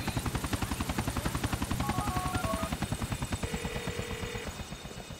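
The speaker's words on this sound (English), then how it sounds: "We shut down that chopper for you." Helicopter in the video game GTA IV: steady, fast rotor chop pulsing throughout, loud and close, with game sound effects layered over it and no talking.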